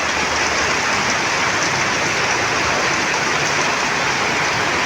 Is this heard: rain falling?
yes